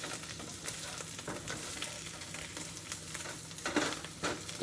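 Chorizo fries with potatoes and onion in a pan, giving a quiet, continuous sizzle broken by soft stirring scrapes and crackles.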